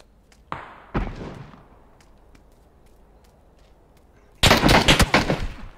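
Gunfire in the battle-royale game PUBG: a couple of sharp isolated shots early on, then a dense burst of rapid automatic fire near the end, with quiet background between.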